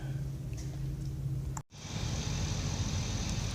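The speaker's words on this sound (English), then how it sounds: "The diesels, trucks are over there all idling and doing stuff." Diesel trucks idle at a distance, a steady low rumbling drone outdoors that holds throughout, broken by one brief dropout before resuming slightly louder, with no talking.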